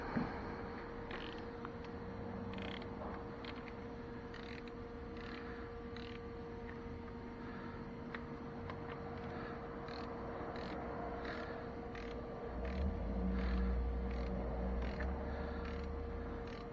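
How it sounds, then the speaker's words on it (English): A torque wrench tightens the 12 mm cylinder head bolts on a 2010 Toyota Prius in sequence. Faint, repeated creaking clicks sit over a steady mechanical hum, and a low rumble swells near the end. "we're going to torque them in a pattern, and the spec is going to be 22 foot-pounds on each 12 millimeter bolt"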